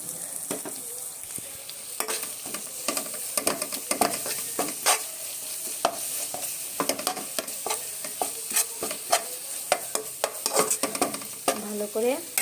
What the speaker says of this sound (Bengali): ভালো করে নেড়ে চেড়ে আমি কষিয়ে নেব।